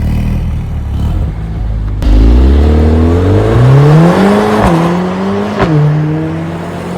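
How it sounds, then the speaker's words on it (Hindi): A Mercedes-AMG A45 S on its stock exhaust revs hard outside, a loud engine note climbing in pitch with sharp blips and drops as the throttle is worked through several rises. "किस लेवल का मतलब लाइक यहाँ पर बाहर साउंड ये गाड़ी कर रही है स्टॉक एग्जॉस्ट के साथ में"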